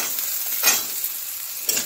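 A medium potato cut into small dice fries in oil with already browned onions, a close, steady sizzle broken by a couple of brief scraping stirs, with no voices.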